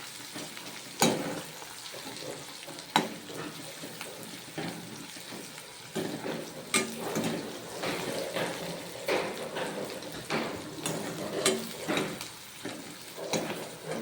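Onions frying in a pan for a spring onion curry, a steady soft sizzle running throughout with occasional sharp clinks and stirring scrapes, fairly quiet and close.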